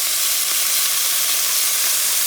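Preserved sofrito sizzles loudly in a hot pot for Puerto Rican arroz con pollo, a steady, dense frying hiss with no voices.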